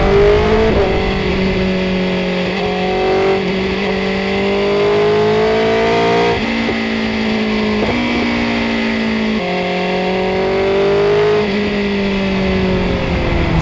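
A 2025 BMW S1000R motorcycle engine revs and accelerates steadily through several gear changes, a loud close whine rising in pitch and dropping at each shift, with no talking.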